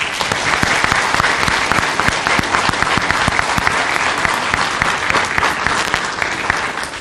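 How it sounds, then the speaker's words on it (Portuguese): Dense, sustained audience applause at a Women's Day event, many hands clapping loudly and evenly for the full stretch with no talk over it. "uma salva de palmas para vocês"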